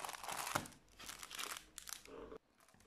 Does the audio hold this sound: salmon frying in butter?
no